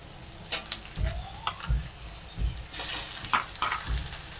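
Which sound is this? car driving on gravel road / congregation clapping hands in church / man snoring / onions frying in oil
onions frying in oil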